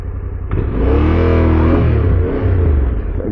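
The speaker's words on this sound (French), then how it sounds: "Vous entendez la roue arrière qui glisse?" Motorcycle engine revving loud and close as the rear tyre slips and spins on rock during an off-road backcountry ride, a sustained rising rumble with a brief dip before surging again.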